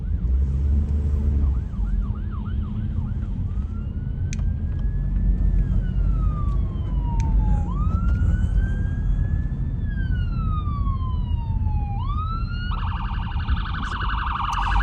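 An ambulance siren passes by outdoors, starting with quick yelping warbles and then moving into long rising and falling wails that sweep up and down over steady low traffic rumble.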